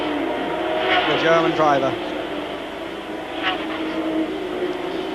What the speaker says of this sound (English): accelerating out of that corner, overtakes and laps Schutz